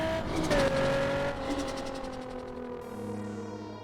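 A boosted Nissan 350Z runs downhill on the Hakone Turnpike mountain road, its engine and a whining tone loud and close, the revs easing and falling away as the car descends.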